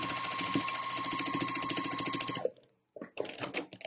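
A sewing machine stitches a quilt block seam with star legs on top, a fast close rattling hum of needle strokes that runs for a few seconds, stops briefly, then starts again in shorter bursts.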